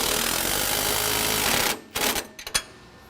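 Tool tightening the sway bar end links on a '55-57 Chevy: a loud, continuous mechanical rattle for about a second and a half, then it stops and a few short clanks and taps follow.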